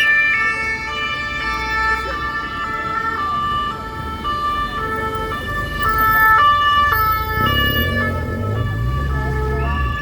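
Ambulance and police sirens wail on a Paris street, boulevard du Port-Royal, their rising and falling tones overlapping and swelling closer near the end over a low rumble of road traffic.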